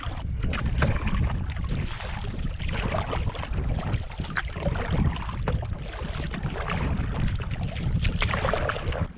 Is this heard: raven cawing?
no